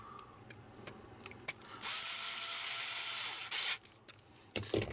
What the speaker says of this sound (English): Put at least one of the screws in.